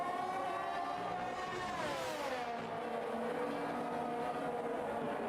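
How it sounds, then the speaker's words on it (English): Race car engines in a racing video game at the Qatar circuit, a continuous high-pitched whine with layered engine harmonics that rise and fall as the cars shift and pass, steady and loud with no talking. "Can you guys still hear the sound of the cars, by the way?"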